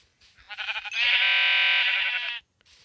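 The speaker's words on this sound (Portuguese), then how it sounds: "Ó, tem outra ovelha ali, já tava fazendo a cama." A single sheep in a video game bleats loudly and steadily for about two seconds, a clear sustained cry standing alone with faint quiet sounds before and after.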